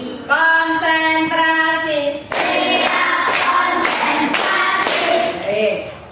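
A group of children claps in unison, first in a quick patterned sequence, then in another burst of rhythmic claps, with high voices mixed in.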